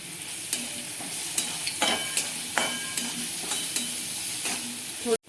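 Ground chutney fries in oil with onion and salt in a pan, a constant close sizzle punctuated by regular stirring clacks of a spoon, ending with a sharp knock.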